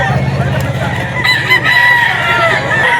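A Black Dome rooster at a poultry sale crows loudly in a long drawn call over steady clucking, with people talking nearby.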